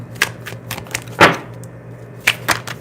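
Tarot cards shuffled by hand during a live reading, giving a series of sharp, papery riffle bursts and taps spread unevenly, close and fairly loud, with no talking.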